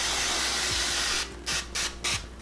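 A continuous hiss from a L'Oréal Colorista hair color spray can runs for over a second, followed by three short, sharp bursts of spray.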